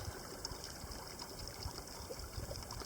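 Small stream trickling beside a mountain trail through a burned aspen area in Utah's Pine Valley Mountains in autumn, a soft, continuous low babble heard faintly and alone.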